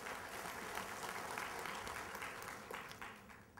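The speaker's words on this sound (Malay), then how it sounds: "Satu tepukan untuk beliau." An assembly hall audience applauds Tan Sri Doktor at a monthly gathering, a sustained, fairly faint wash of many hands clapping from a distance, fading slightly toward the end.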